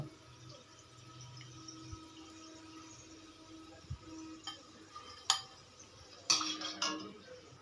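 Fried potato chips being lifted out of a pan with a utensil, soft oil bubbling underneath a series of scattered metallic scrapes and clinks that grow louder toward the end, close and without talk.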